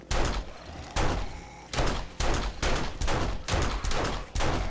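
Repeated bursts of gunfire in the video game 7 Days to Die, a loud volley roughly every half second to second, each shot cracking sharply and then fading, with no talk.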